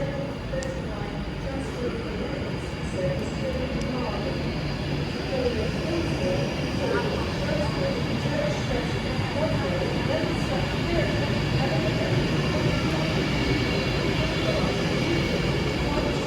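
A train departs the station with a broad, steady rumble that holds level and builds slightly, continuous throughout, with a voice audible over it.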